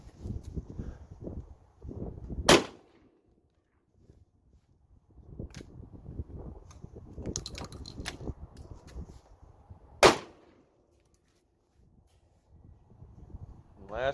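A Springfield Model 944 shotgun fires two sharp, loud outdoor blasts several seconds apart, with a person speaking quietly and handling noises in between.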